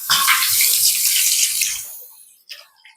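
Water runs from a repaired lavatory faucet in a strong, splashing stream for about two seconds, then shuts off, leaving a few faint drips and trickles.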